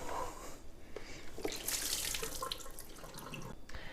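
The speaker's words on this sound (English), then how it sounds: "I will also put a small amount of water back in this spot and give it one quick rinse" Tap water splashing and rinsing inside a Levoit humidifier tank, a steady close splatter with brief drips and sloshes over four seconds, no voices.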